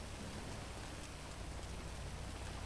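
Steady rain pours in the game GTA 5, a dense unbroken hiss of falling water that stays even and fairly loud from start to finish, with no other sounds standing out.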